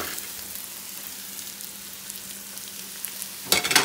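Garlic frying in a pan, a steady soft sizzle throughout at moderate level, with a brief louder clatter near the end.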